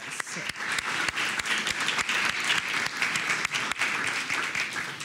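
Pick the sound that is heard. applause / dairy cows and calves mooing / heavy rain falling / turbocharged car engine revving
applause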